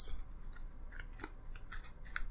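A deck of playing cards being cut by hand, a handful of crisp, quick snaps and slaps spaced irregularly, close and fairly quiet with no talking.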